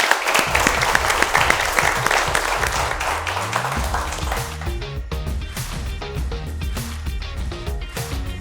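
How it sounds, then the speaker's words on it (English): Audience applause at a school climate quiz competition, a broad wash of clapping that starts loud and dense and gradually thins out, with other sounds overlapping in the latter half. "I would like to give you all both another round of applause."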